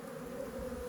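A dense honey bee swarm on a sheet fills the air with a steady, close buzzing drone that holds without a break.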